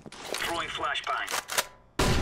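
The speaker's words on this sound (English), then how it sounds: "Throwing flashbang." A flashbang grenade goes off in Counter-Strike on the Mirage map: a loud, sharp broadband burst near the end follows a busy stretch of in-game sounds and a brief crackling pop.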